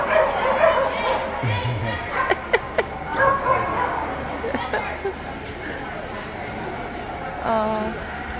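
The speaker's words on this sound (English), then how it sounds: "They also show dogs here for competitions." Several dogs bark, yip and whimper at a dog competition show at an equestrian center, in bursts over a busy background of crowd chatter and voices.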